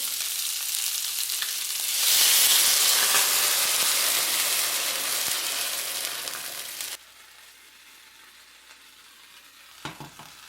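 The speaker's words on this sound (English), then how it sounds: "48 ounces for chicken broth. And after that, we're gonna put it in the soup, pour it in the soup" 48 ounces of chicken broth pours into a hot pot for tofu fish soup with a loud, rushing hiss and sizzle that lasts several seconds, then cuts off to a quiet simmer.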